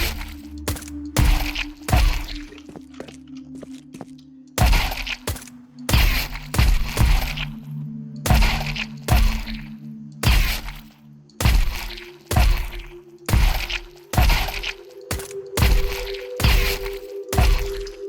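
Sharp Counter-Strike 2 gunshots during a warm-up routine on a workshop map, fired in steady groups of three with short pauses, loud and dry with no talking.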